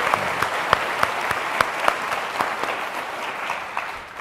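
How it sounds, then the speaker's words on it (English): Audience at a legal convention session on the judiciary breaks into steady applause, a dense wash of clapping with sharper individual claps popping out, gradually thinning toward the end. "applause for that is completely appropriate."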